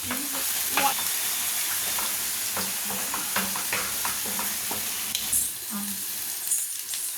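Tomato puree sautéing in a pan for a spicy pepper paneer fry, a steady close sizzle broken by intermittent spoon scrapes and stirring clinks, with no talking.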